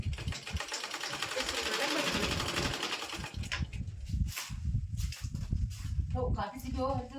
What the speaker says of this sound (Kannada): ಈ ಕ್ರಾಸ್ ಬೆಲ್ಟಿಗೆ ಹಿಂಗ್ ಹಿಡ್ಕೊಂಡ ಈಗ ನಾವಿಲ್ಲಿ ಹೊಲಿಗೆ ಹಾಕೊಳಮ್ರಿ